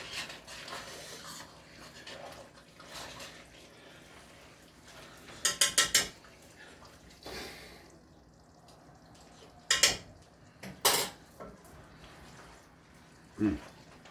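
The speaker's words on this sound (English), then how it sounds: "give this a stir" Rinsed beans are stirred into chili in a pot, with scraping spoon strokes, a few sharp clinks of utensil against the pot, and some soft wet stirring, while a person talks.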